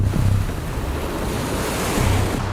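Strong storm wind roars over crashing ocean waves at sea around a yacht, a continuous loud rush with heavier surges of surf near the start and end.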